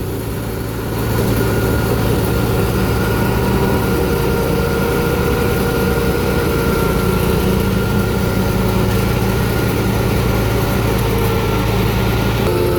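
A Lao rice threshing machine's engine runs at a fixed throttle, a loud, close, continuous mechanical drone with a steady low hum and rattle that stays even throughout.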